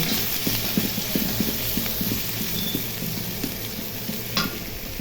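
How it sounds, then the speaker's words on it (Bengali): Chopped onion and a bay leaf fry in hot oil, a steady sizzle with repeated scraping stir strokes of a spoon against the pan throughout, close and fairly loud, no voices. "এখন একটা তেজপাতা দিয়ে দিব পেঁয়াজ কুচি দিয়ে দিব"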